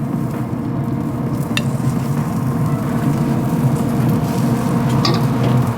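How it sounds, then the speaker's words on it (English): Filet mignon steaks sear in a hot pan with a steady, loud, close sizzle and crackle, joined by a couple of light metallic clinks. "steaks are in the pan"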